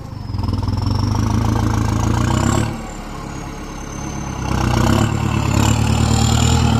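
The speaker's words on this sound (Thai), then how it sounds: "เสียงเทอร์โบนี่หวานแหววมากเลย" A turbocharged motorcycle engine revs up and down close by, climbing to a rough, loud roar with a rising turbo whistle, dropping back to a lower idle, then building again.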